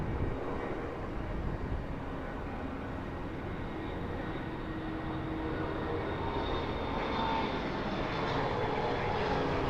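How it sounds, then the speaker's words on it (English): A Saab propeller plane, seen while plane spotting at Phoenix Sky Harbor International Airport, passes overhead with a loud, continuous engine roar that swells slightly toward the end and holds steady throughout, with no voices over it. "There's a propeller plane."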